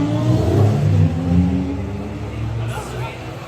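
A Kawasaki Ninja ZX-10R motorcycle on a night ride revs loudly nearby, its engine note rising and falling in a couple of surges before settling into a steadier, quieter drone.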